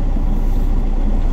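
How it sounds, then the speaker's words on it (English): Peterbilt truck engine idling in a steady low rumble while hooking back up to a trailer, loud and continuous with no distinct events. "I'm gonna go ahead and just hook back up to the trailer now"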